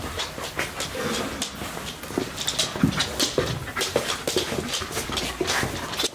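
A police dog pants rapidly and close by in quick, rhythmic breaths, with a faint whimper mixed in and slight background noise.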